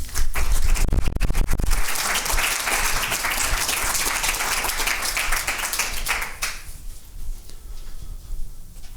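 An audience at a lecture on sacred protests and faith applauds to welcome a speaker, a dense burst of clapping that stays loud for several seconds before tapering off to scattered claps.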